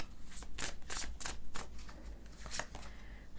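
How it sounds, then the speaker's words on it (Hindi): Tarot cards riffled and drawn from a deck in a series of quick crisp flutters and snaps, close and fairly loud, with no talk over them. "I'm gonna take one more card from this."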